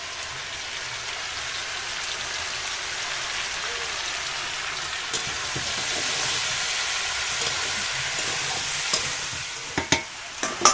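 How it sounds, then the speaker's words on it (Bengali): Pumpkin with chili powder sautéing in a pan makes a steady, close sizzle, with a few scraping stirs near the end. "কুমড়োটা ভালোভাবে কষানো হয়ে গেছে"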